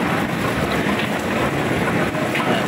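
A rubber-processing machine rolls sheets of natural rubber latex thinner, giving a constant loud mechanical rumble and whir with no pauses.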